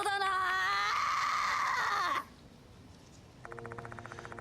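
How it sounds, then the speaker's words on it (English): A female student character in the video game Spirit Hunter: Death Mark II gives a loud, strained, wailing growl lasting about two seconds before cutting off, followed after a short quiet gap by a softer tonal game sound. "Growling, the female student launches an attack."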